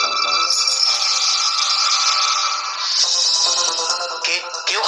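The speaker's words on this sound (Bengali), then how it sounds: "স্কুলের ভেতর থেকে সেই শেকলের আওয়াজ ভেসে আসে।" Metal chain rattling from inside a school building at night, a continuous dense clinking jangle that stays loud and fairly close, shifting slightly in intensity toward the end, with no voices.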